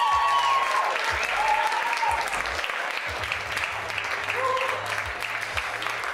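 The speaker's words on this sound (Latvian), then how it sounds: "Vēlreiz aplausi Aleksandram." Audience applause at a Latvian bouldering championship award ceremony, dense continuous clapping from a crowd, loud and sustained, with a few tonal sound effects or music fragments briefly cutting in.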